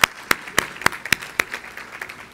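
A short run of sharp, evenly spaced claps, seven or eight crisp strikes at a steady beat, rings out alone at an awards ceremony before fading into a softer patter.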